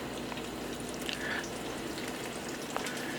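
Halved mild Italian sausages browning in a hot pan with oil, giving a steady, even sizzle and crackle throughout, with a few small pops and clinks.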